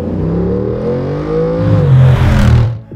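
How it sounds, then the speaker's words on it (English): 2023 Jeep Wrangler Rubicon 392 Xtreme Recon with a quad-pipe exhaust revs loudly up close, the engine note rising and swelling to a peak near the end before dropping away, with no voices. "Quad pipe exhaust can go from stealth to holy at the push of a button."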